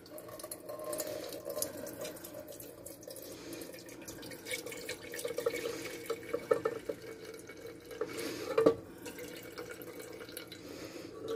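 Water runs steadily from a kitchen tap, a continuous splashing flow with small drips and clinks, fairly close and without talk.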